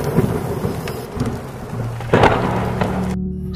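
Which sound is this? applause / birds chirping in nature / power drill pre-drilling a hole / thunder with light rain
thunder with light rain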